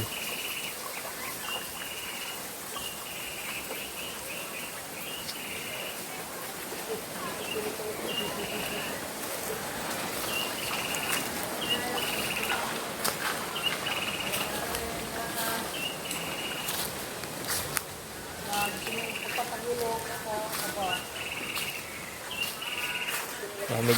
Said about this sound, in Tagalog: Maririnig mo guys yung iba-ibang tunog ng hayop ng mga ibon.